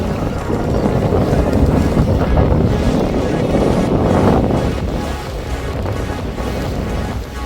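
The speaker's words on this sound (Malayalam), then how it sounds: "നമ്മൾ പോർട്ടിൽ നിന്ന് ബോട്ടിൽ കപ്പലിലേക്ക് പോയിക്കൊണ്ടിരിക്കുകയാണ്." Boat ride from port out to an anchored ship off Kavaratti, Lakshadweep, a steady engine drone with wind buffeting the microphone and faint voices.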